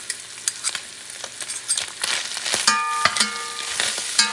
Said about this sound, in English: Now adding a couple tablespoons of tomato paste. You're going to add it. And you're going to mix it up.